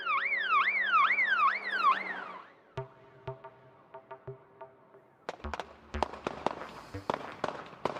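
Fireworks go off in a sequence of sharp bangs and crackles, scattered single pops at first and then a denser burst of loud cracks, preceded by a warbling siren-like whistle.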